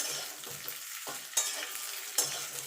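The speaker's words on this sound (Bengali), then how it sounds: "কুলটা যে ফাটিয়ে রেখেছিলাম সেটা দিয়ে দেবো দিয়ে একটুখানি নেড়ে নেবো" Cracked jujubes with five-spice are stirred in hot oil for pickle, a close, bright sizzle broken by a few sharp scraping strokes of the spoon against the pan, with no talk.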